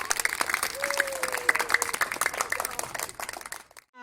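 An audience claps for the winning team of a school quiz programme at Subhania High School in Nagpur; loud, dense applause runs for over three seconds, with a brief voice under it, then stops abruptly.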